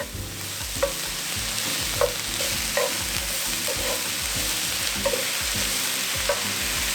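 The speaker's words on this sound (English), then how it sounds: "add in our onion and shallot and mushroom. I will have that on a medium-high heat" Onion, shallot and mushroom sautéing in a pan over medium-high heat, a steady close sizzle with repeated scraping stirs at roughly one-second intervals.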